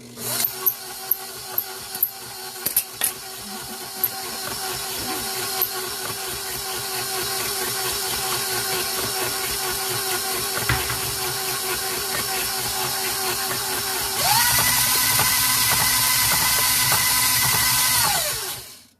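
Electric mixer beating cinnamon apple raisin cake batter, a steady whirring motor drone after a few clicks, rising to a higher, louder speed near the end before cutting off.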